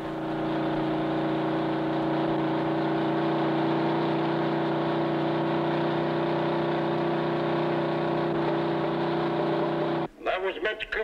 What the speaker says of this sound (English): That was Mitch Cooper in car number 8, finishing his qualifying run